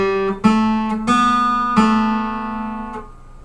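An acoustic guitar plays the opening pickup and first two bars of Greensleeves, four or five plucked notes that ring out and overlap, then the last note decays.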